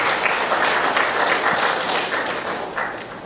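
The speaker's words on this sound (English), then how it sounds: "Let's have a round of applause for Mr. M. Thakur, the Joint Director General Foreign Trade," A large audience at an air cargo industry conference applauds an official, steady broad clapping from many hands filling the room, loud and even, tapering off slightly near the close.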